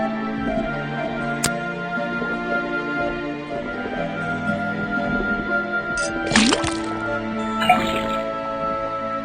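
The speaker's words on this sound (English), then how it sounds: "put the sample of liquid into the cauldron. Then tap the faucet." Liquid pours from a tapped faucet into a cauldron in the Detective Grimoire video game, gurgling and dripping under a steady musical background, with a louder splashing burst near the end.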